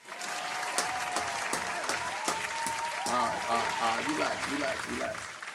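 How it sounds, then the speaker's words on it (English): Audience applause fills the span at steady strength, with voices and cheering rising over it in the second half. "I think that deserves a round of applause."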